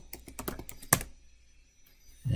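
Typing on a computer keyboard at a terminal: a quick run of key clicks ends in one sharper keystroke, followed by quiet.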